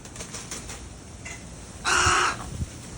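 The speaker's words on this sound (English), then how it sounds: "Pretty birdie." A single loud, harsh crow caw rings out nearby outdoors, preceded by faint scattered bird chirps and light wind noise.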